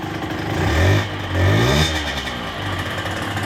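A KSR motorcycle with an AM6 engine, warming up, revs twice in quick swells and drops back to a rough, clattering idle between them.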